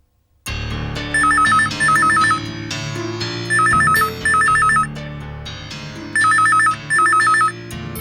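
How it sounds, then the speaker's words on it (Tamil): A telephone ringtone plays on and on in a loud, repeating pattern of electronic trilling bursts over a steady musical backing, with no talking. "எங்க போன் ரொம்ப நேரமா அடிக்குது"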